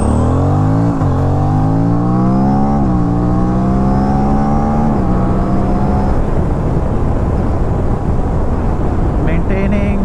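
A motorcycle accelerates hard toward 100 km/h, its engine note climbing in pitch through several upshifts with short dips between gears, loud and close with steady wind rush underneath.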